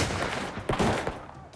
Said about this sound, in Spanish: Mientras continuaban los disparos